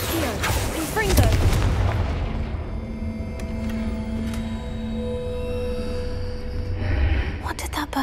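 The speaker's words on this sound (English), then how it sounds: "What did that burst of magic do?" A spell's magical burst in a wizarding video game sounds as a loud broadband blast with booming low rumble, then a sustained humming tone with a faint shimmer that fades and swells again near the end.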